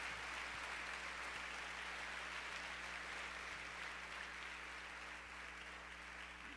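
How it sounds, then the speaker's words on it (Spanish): A church congregation applauds during a sermon, a dense, steady wash of clapping from many hands that carries on without a break, with no voices standing out. "Dale un aplauso a Él que recibe toda la gloria."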